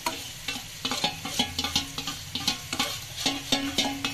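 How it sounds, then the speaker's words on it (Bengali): Marinated chicken being stirred and fried in a pan during a cooking competition, a steady sizzle broken by repeated scraping clatters of the spatula at an irregular rhythm, close and fairly loud. "এখন জল ঢালবেন না, তেজ আছে, একে খুবই ভালো করে নাড়াচাড়া করতে হবে।"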